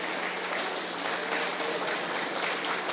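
Audience applause at a human rights ombudsman's office report presentation, a dense, steady wash of clapping from a room full of people holding even for a few seconds.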